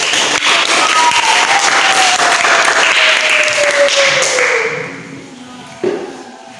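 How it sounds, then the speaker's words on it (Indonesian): Schoolchildren in a classroom lesson clap together in a dense burst of applause for about four seconds before it fades out, ending with a single late clap. "Tepuk tangan sekali lagi"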